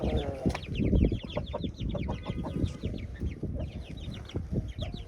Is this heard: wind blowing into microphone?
no